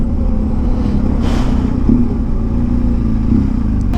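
A motorcycle, a BMW R1200 GS Adventure, rumbles and revs as it pulls up close by, with a brief swelling whoosh and clattering engine tone and no talk.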